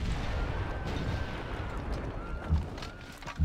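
A city bombard artillery attack in the video game Civilization V lands as two dull, low thuds late in the moment, heard over a quiet steady wash of game ambience.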